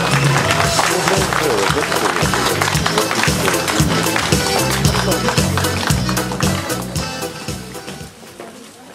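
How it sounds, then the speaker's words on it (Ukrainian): A school crowd gives loud, sustained friendly applause for children at a first-day-of-school ceremony, dense clapping with music underneath, fading out at the end. "Ще раз привітаємо їх дружніми оплесками."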